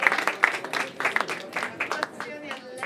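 Audience applause at a legal award ceremony, a moderate run of scattered claps in a hall, fairly even and unhurried, with some talking mixed in.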